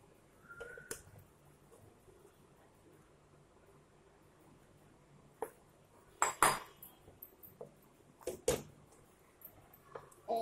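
Fried chicken pieces going into a pan of butter chicken sauce with kasuri methi, marked by scattered metallic clinks and clatters of a spoon against the pan over a quiet kitchen background.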